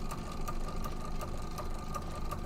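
Sewing machine stitching a maple leaf table runner, running steadily with a fast, even mechanical whir and a regular light ticking pulse, close and continuous throughout, no talking.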